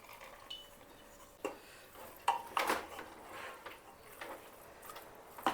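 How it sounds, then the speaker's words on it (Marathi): Mutton mince is mixed with lentils in a bowl, heard as faint, intermittent clinks and soft scrapes of a spoon working the mixture in a quiet kitchen. "खिमा छान मिक्स करून घ्यायचा।"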